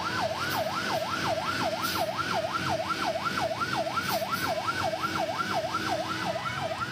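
Fire engine siren from Tangerang Selatan fire units responding to a blaze at dormitory houses, a steady rising-and-falling wail cycling about twice per second, loud and continuous over street noise.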